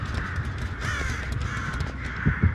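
Crows in Dead by Daylight give a run of repeated raspy caws, loud and close, over a steady game background with a couple of low thumps near the end.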